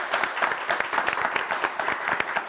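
Studio audience applause on a Turkish word game show, a steady dense patter of many hands clapping at close range, with no voices over it.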